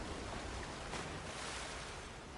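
Ocean waves wash in The Last of Us Remastered, a continuous broad surf roar that stays even and fairly quiet with no voices.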